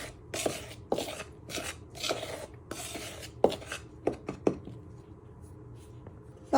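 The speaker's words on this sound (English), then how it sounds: "You first just want to chop it into pieces like that" Margarine cut into pieces in a bowl for Easter bunny cakes, a series of soft close scraping and chopping strokes in quick bursts, then a few sharper taps spaced apart, with no talk.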